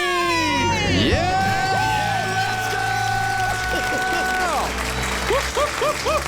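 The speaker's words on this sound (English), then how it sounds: "Let's hear a debt-free scream." Studio audience and guests cheering and screaming together in celebration of becoming debt-free, loud sustained shouting and whooping with applause, rising voices holding long cries before breaking into short excited yells.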